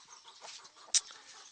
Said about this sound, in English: we've got a mixture of ducks and chickens